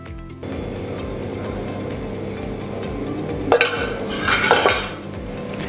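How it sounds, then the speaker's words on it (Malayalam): A coleslaw mix is spooned onto a bed of iceberg lettuce for a grilled chicken bread sandwich, with a brief clatter and a longer rustling scrape over quiet background music. "ഇതിലേക്ക് നമുക്ക് കുറച്ച് കോൾസ്ലോ മിക്സ് ചേർത്ത് കൊടുക്കാം."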